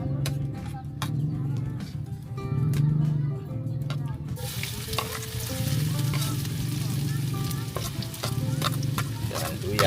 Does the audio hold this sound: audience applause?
no